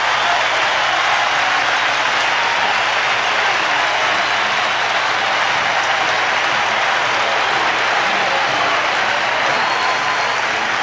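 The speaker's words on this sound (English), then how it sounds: "the crowd comes to its feet as the Astros take the field" A dense, steady roar of a large crowd at the Houston Astrodome fills a baseball game broadcast, continuous loud cheering and applause with no breaks throughout.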